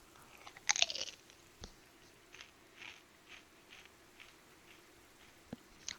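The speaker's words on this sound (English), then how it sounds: "That was a very loud crunch." A single loud crunch near the start in the hidden-object game Dark Parables: Return of the Salt Princess, followed by a few softer scattered clicks and taps over quiet background.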